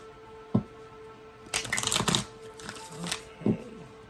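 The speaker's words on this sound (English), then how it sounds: "One more shuffle" A deck of tarot cards is shuffled close up, a single snap followed by a quick riffling flutter, then a few softer taps and another snap.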